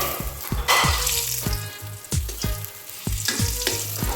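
Brinjal slices frying in a pan: a close, continuous sizzle broken by repeated sharp spatter pops and scraping stirs at an uneven rhythm, with no voices.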